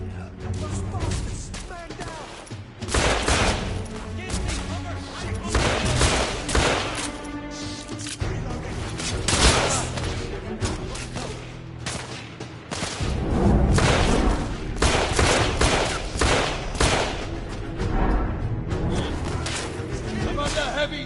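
Heavy gunfire in the video game The Order 1886 comes as dense, repeated bursts of shots and booming impacts, loud and close, over about twenty seconds, while voices speak between the volleys.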